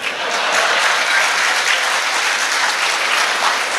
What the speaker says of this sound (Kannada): ನಿಮ್ಮದು ಬಂದಾಗ ನೀವು ಹೀಗೆ ಚಪ್ಪಾಳೆ ತಟ್ಕೊಳ್ಬೇಕು